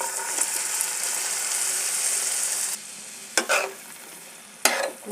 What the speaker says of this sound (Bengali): হয়ে গেছে পেঁয়াজ ভাজা এখন প্রথমে জগাগুলো দিয়ে দেবো